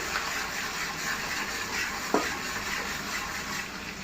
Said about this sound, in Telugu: తాలింపు బాగా వేయించుకోవాలండి